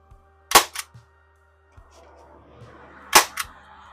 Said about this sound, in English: Grab your staple gun and